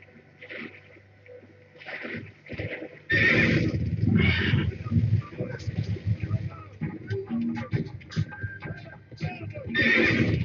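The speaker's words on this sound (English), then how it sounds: "now we can have a dire horse." In the Avatar video game, a Na'vi direhorse whinnies several times in loud bursts, with hoof clip-clop and game action noise filling the gaps between cries.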